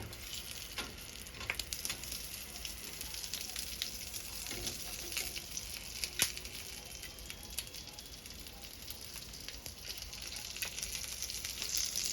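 Dried saba mackerel sizzles and crackles steadily on a grill as its oil runs out, a close, continuous frying hiss with occasional sharper pops.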